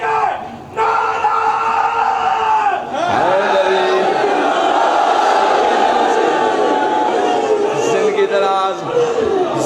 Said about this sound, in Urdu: پوری طاقت نال مولا علی سامنے نعرے جواب دے